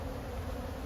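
Honey bees buzzing inside an open hive with two supers of bees, a steady close drone with a hissing texture, alone and without pauses.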